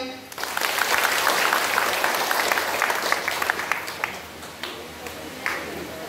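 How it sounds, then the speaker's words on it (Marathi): An audience at a community gathering claps in a dense burst of applause that gradually thins out into scattered claps before fading. "टाळ्या वाजवा."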